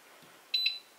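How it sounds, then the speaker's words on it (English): Timer beep from a Bosch induction range in a kitchen: a short pair of bright electronic tones, close and clear, in a quiet room. "once it's done, you will hear the beep"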